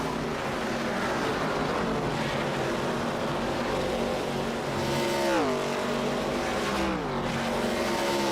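Race cars roar around Darlington in an ARCA Series race in iRacing, a steady loud engine drone with pitch sweeps as cars pass and shift, continuous with no talk.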